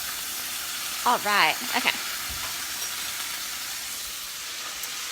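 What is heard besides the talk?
beef searing in a pan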